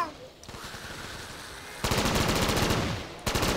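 Automatic gunfire in a Call of Duty custom zombies map, one long sustained burst followed by a louder rapid stream of shots, under a faint murmur of talk.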